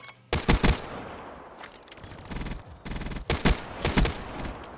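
Rapid bursts of automatic gunfire from Call of Duty: Black Ops III, loud and close, with short pauses between volleys and a few heavier single shots, no talk.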